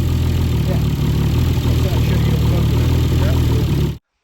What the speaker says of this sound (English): Finally, the engine is running.